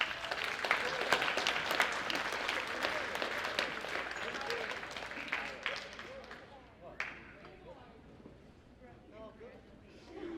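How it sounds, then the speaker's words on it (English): Audience applause at an 8th grade school awards ceremony, steady clapping from a room of parents and students that fades down partway through, with voices murmuring beneath. "we'll give you a round of applause for all 4 of you in just a moment"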